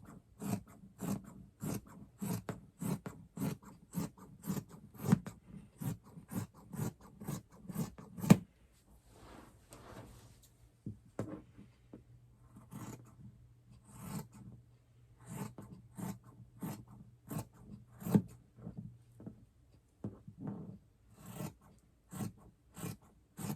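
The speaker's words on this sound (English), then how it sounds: "And then cut each of those strips again." Scissors snipping through strips of minky fabric, a quick steady run of crisp close cuts, then a pause with soft fabric rustling before the cutting rhythm resumes.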